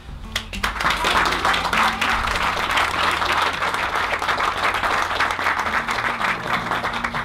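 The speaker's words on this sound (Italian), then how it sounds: "E quindi un applauso a Giuseppe Maggiolino." An audience at an exhibition opening applauds with steady, dense clapping that continues at full strength throughout, with faint crowd murmur underneath.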